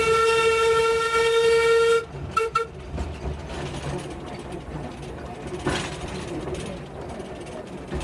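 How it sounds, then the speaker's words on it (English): A Festiniog Railway steam train gives a long, loud whistle blast that cuts off, then its carriages rattle and clank steadily along the line, with no voices. "The Festiniog Railway was an industrial railway built to transport slate."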